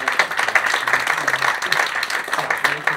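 Audience applause at a live show, a dense burst of many hands clapping close by, steady and lively for a few seconds with voices mixed in underneath.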